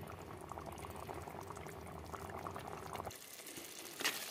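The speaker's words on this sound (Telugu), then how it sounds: "ఇప్పుడు ఈసారి వాటర్ అంతా ఇంకిపోయే వరకు ఉడకనిద్దాం" Mutton curry bubbles steadily in a pot as its water cooks away, a continuous close simmering hiss that thins out briefly near the end.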